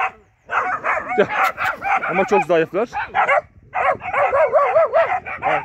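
Puppies and dogs yip, bark and whimper excitedly and almost continuously during feeding, close and loud, with bursts of squabbling, while someone talks over them.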